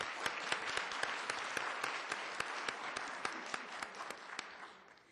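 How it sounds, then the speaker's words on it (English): An audience claps at a Black to the Future event celebrating Octavia E. Butler, a dense, steady applause with sharp individual claps standing out. It runs for about five seconds at moderate distance, then tapers slightly at the end. "let's give her another round of applause."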